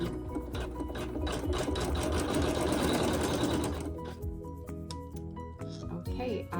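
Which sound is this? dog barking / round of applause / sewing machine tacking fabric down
sewing machine tacking fabric down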